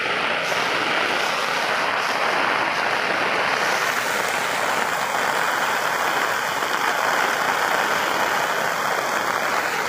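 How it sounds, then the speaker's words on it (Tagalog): Strong wind drives heavy rain across floodwater around provincial homes in the Philippines, a continuous loud roaring wash that never lets up, with no one talking. "Sinabayan pa ng malakas na hangin."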